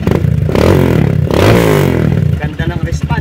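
A Honda XR200 motorcycle engine revs up and down after carburetor cleaning and tuning, with loud rising and falling throttle sweeps ending in a choppy idle.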